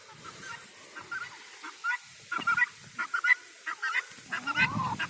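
Poultry in a backyard flock squawking and honking in short, scattered calls, moderately close, with quiet gaps between bursts and no talk.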